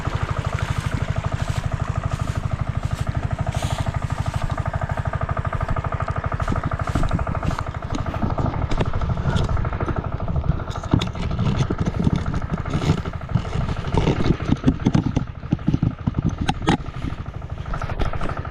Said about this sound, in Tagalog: nagpandar tayo ng makina para matubigan itong pinaggapasan